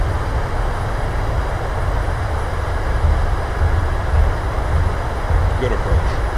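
An airliner's thrust reversers roar in a steady, loud broadband rumble during a landing rollout in Microsoft Flight Simulator, with faint voices barely audible beneath the engine noise.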